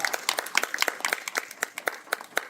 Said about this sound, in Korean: 우리 윤석열 정부가 잘했다고 감사의 박수 한번 보내드립시다.